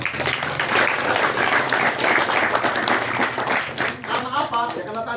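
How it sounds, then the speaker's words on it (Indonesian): Audience applause fills a talk on short story writing, a dense, steady wash of many hands clapping that holds for several seconds before thinning out near the end. "Tepuk tangannya mana?"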